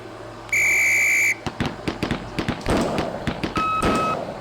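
A sharp, loud whistle blast in the Police Quest SWAT video game, sounding alone for under a second on a shooting range, followed by a rapid series of gunshots and clattering impacts, then a brief electronic beep.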